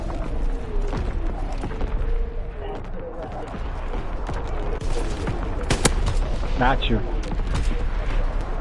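Artillery fire in a video game booms and crackles in a dense, continuous barrage with sharp blasts standing out, while a voice speaks briefly over the noise.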